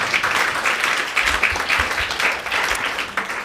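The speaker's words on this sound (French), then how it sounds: "on peut l'applaudir." An audience applauds a guest at a French business podcast recording, with dense, steady clapping that holds for several seconds at a moderate distance.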